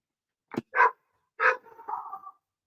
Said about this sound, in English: I'm gonna let the dog bark until she goes away.